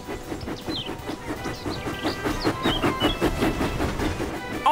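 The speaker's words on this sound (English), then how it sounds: "James puffed proudly into the steamworks." A cartoon steam engine puffs along the rails toward the steamworks, with regular chuffing beats and rail clatter that grow louder, plus faint tonal music over the top.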